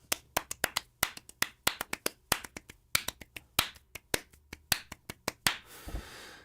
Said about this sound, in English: Can you show a cool thing, a cool clap pattern with your hands?